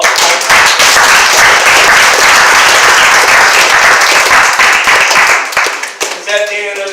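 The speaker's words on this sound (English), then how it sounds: "give yourself a round of applause." An audience at a poetry open mic claps loudly and densely for several seconds, then the applause thins out as a voice begins speaking near the end.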